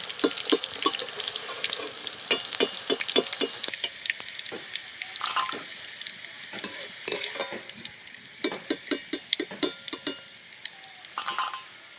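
Vegetables for a Bengali shukto, including beans and drumsticks, frying in oil while being stirred in a pan, with a steady sizzle broken by repeated sharp scraping and clinking strokes of the spatula, close and fairly loud.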